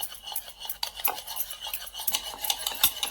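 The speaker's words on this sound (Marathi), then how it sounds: "बटर आहे ना ह्या दुधामध्ये चांगलं असं मिक्स झालं पाहिजे" Butter being stirred into room-temperature milk in a bowl for an eggless plum cake batter, a quick run of close, rhythmic clinking and scraping strokes from a spoon against the dish, with no talk.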